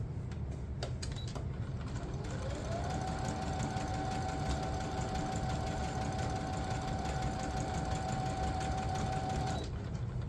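A domestic sewing machine stitches a seam in one steady, continuous run, its motor whirring up to speed and holding an even pitch before stopping, close and alone with no talk.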